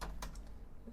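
Several quick key clicks on a computer keyboard, close and fairly faint, in a short burst with no talking.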